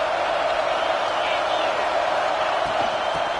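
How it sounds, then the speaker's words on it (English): A stadium crowd at an American football game in the final minute of play roars as a steady, dense wash of cheering and noise, sustained throughout with no break. "Tremendous crowd atmosphere now in the final minute of play."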